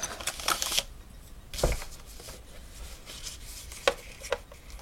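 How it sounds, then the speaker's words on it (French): A bone folder scoring and creasing folded paper for a gift place card, heard as close rubbing swipes and scraping strokes with crisp papery bursts, repeated several times in an irregular rhythm. "plioir en os, pour pouvoir bien marquer le pli"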